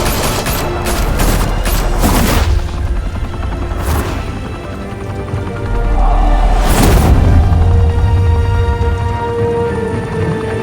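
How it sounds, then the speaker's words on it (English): Gunfire in a Batman Telltale Series scene, a volley of sharp shots in quick succession followed by heavier booming blasts and crashes, loud and close with no talk. "Open fire!"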